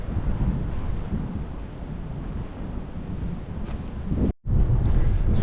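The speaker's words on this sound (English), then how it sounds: "It's a bit windy, I don't know how well this will come out" Strong gusts buffet a microphone outdoors beside an old coal waggonway in the UK, a loud steady low roar that cuts out briefly near the end and then returns just as heavy, with no voices.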